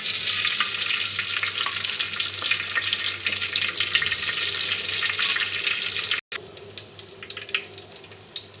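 Fenugreek seeds drop into hot oil in a dry-heated pan and hiss at once, a loud, steady, close sizzle. A brief cut interrupts it before the frying resumes with some crackle.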